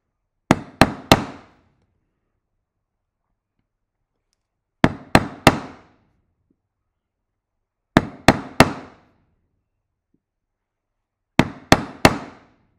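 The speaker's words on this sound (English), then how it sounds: "I'm now going to spin my gouge the other way around and join from where the last stop cut ended to the tip of my tool" Four groups of three sharp wooden knocks ring out in quiet, evenly spaced, close and crisp, as a carving gouge is struck into wood to make stop cuts.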